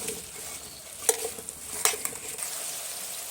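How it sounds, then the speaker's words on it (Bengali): Cauliflower with salt fries in hot oil, a soft steady sizzle with a couple of sharp clinks and stirring scrapes from the pan, fairly quiet and without speech. "নুন দিয়ে আমি ফুলকপিগুলো একটু কিছুক্ষণ ধরে ভেজে নিচ্ছি"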